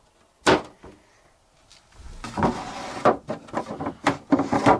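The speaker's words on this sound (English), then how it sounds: "I can actually take these doors right off." Wooden closet doors on a 1976 CHB trawler boat are handled and lifted off, giving a string of close knocks, bumps and rubbing clatters with a short pause early on, no talking.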